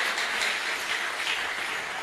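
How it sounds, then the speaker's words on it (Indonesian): A congregation gives brisk, sustained applause, a dense even patter of many hands clapping together at moderate volume, with no talk over it. "Yang setuju tepuk tangan dulu yang meriah bagi Tuhan"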